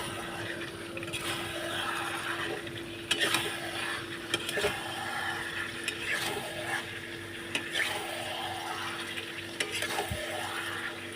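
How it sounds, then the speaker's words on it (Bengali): Mutton kosha being stir-fried over a full flame, with steady sizzling and repeated scraping strokes of a spatula against the pan at a regular rhythm, close and alone. "ফ্লেমটা আমি ফুল করে দেবো এবার আবার কষিয়ে নেব"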